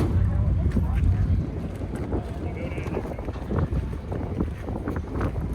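Heavy wind buffeting the microphone outdoors on the coast at Gulfport, Mississippi, a loud continuous low rumble with gusts, strongest at the start, beside a car show.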